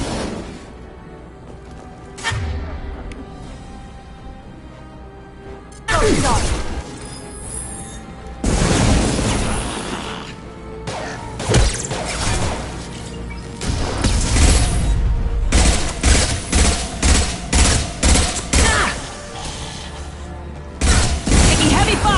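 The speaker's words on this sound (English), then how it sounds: "Taking heavy fire!" Heavy gunfire and blasts in the sci-fi shooter Mass Effect 2, loud bursts and crashes arriving in clusters with short gaps, some sustained stretches of rapid fire, voices calling out in between.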